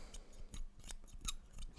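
Scissors snip through hair in a close-up haircut, a quick run of crisp metallic cuts about two seconds long, with dull blades that seem to struggle a little.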